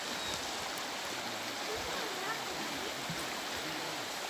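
River water flowing in a steady, continuous broadband rush that stays loud and unbroken throughout, with faint gurgles and splashes mixed in.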